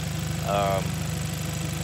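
A 2012 Kia Optima SX engine idles warm at full operating temperature, a steady low rumble running throughout, with a brief higher tonal whine rising over it midway.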